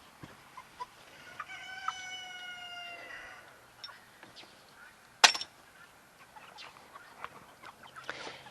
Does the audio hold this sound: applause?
no